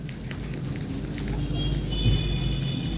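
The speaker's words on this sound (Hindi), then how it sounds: "हल्की हल्की बारिश हो रही है" Light rain falls steadily, a continuous soft hiss and patter of drops with a low rumbling background. Close and even throughout, with no talk.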